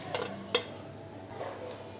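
Dates sautéed and mashed in ghee in a pan bring soft stirring scrapes and a couple of sharp utensil clicks against the pan over a quiet, faint sizzle.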